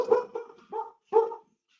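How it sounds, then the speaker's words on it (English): A pet dog barks several times indoors at close range in short sharp bursts, the final bark loudest, with silence after. "that was our dog"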